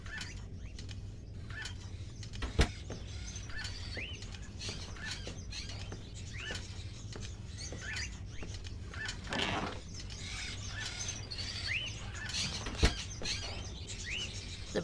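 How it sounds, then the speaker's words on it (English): Caged birds chirping in a video game scene, faint scattered tweets and short calls over a low steady hum, with occasional soft clicks and no talk. "It can spend its entire life locked up in a cage and yet still keep on singing away."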